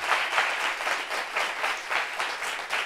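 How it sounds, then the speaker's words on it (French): Steady applause from a meeting audience, a dense wash of many hands clapping at an even level for a few seconds with no voices. "Applaudissements pour vous."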